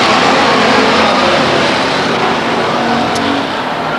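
Race cars roar around the oval at Stockton 99 Speedway, a loud, continuous engine drone from several cars running close together with no voices over it.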